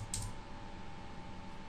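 Rapid light clicks of typing on a computer keyboard beside an Arduino AVR microcontroller board, quiet and close, over a steady electrical hum.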